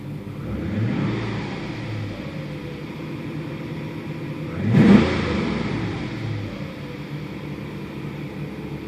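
A 1987 Porsche 928 S4 V8 idles steadily, then gets a single quick blip of the throttle that briefly swells louder before settling back to a smooth idle.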